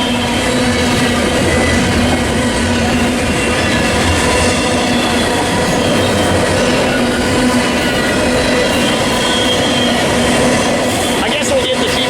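A train passes close by at Commerce, a loud, unbroken roar of rolling wheels and rattling cars with some faint squealing, holding steady for the whole stretch.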